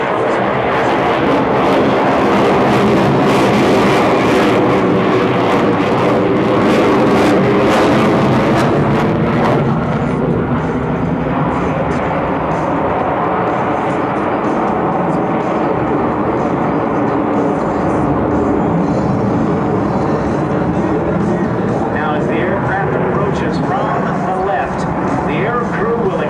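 F/A-18F Super Hornet jet flying an air show demo at the 2008 AirPower Over Hampton Roads, a loud, sustained roar of jet engines that dominates throughout, with an announcer talking over it.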